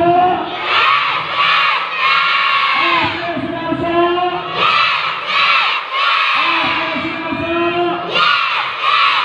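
Schoolchildren at an elementary school welcome event shout together in loud, sustained group yells, several bursts in a row with brief pauses between, the crowd noise filling the space.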